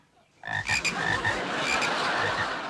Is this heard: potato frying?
no